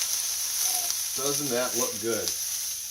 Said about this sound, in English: You can hear that sizzling going on in the background.